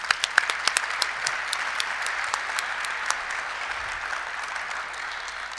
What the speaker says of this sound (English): give them a round of applause if you wouldn't mind